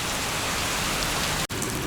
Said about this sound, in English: No, it hasn't stopped raining